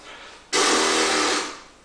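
A brief, breathy lip buzz blown through a didgeridoo, starting suddenly and fading after about a second.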